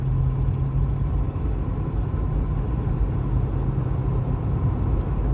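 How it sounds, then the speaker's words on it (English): A 1994 Chevy Caprice LS engine with a slight exhaust leak pulls under way, giving a steady loud low drone with a constant hum and rough exhaust texture, heard from inside and without talk. "I hear a slight exhaust leak"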